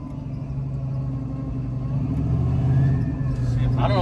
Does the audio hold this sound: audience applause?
no